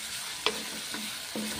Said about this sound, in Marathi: आता व्यवस्थित आपल्याला हे आलू कांद्यासोबत परतून घ्यायचे आहे।